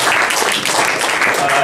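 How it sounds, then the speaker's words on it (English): Audience applause at a university start-up pitch competition, a dense, steady wash of many hands clapping in a room, continuing through the short stretch. "So just a quick round of applause for everybody here."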